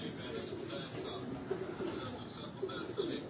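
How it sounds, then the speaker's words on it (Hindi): A Chapri-breed pigeon coos softly in low, rolling murmurs, faint and close, with someone talking over it. "ये चपड़ी नस्ल का ये कबूतर है"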